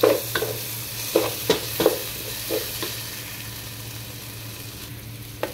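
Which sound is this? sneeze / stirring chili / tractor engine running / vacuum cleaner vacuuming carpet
stirring chili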